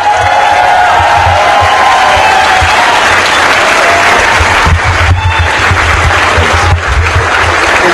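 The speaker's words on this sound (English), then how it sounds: "So let's hear a great round of applause for Caesar and the Ghetto Hackers." A loud, sustained round of audience applause and cheering for Caesar and the Ghetto Hackers at a DEF CON hacking conference awards ceremony, dense clapping with scattered whoops rising from the crowd.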